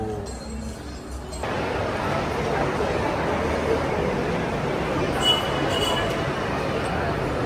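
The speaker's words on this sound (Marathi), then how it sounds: "गाडी आली झुकझुक गाडी" A train rumbles in loudly, its broad steady roar rising and holding, with a faint crowd murmur underneath.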